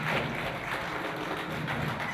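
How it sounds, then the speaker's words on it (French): Applause at a retirement ceremony for researchers in exact and applied sciences, a dense steady clapping from a crowd lasting a couple of seconds at even loudness. "Des applaudissements suivis d'un toast"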